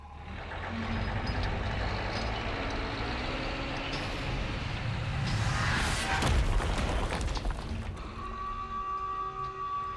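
A heavy vehicle in Resident Evil 4 drives up to smash through a wall, with a low engine rumble throughout. A louder crashing burst comes midway, followed by steady beeping tones.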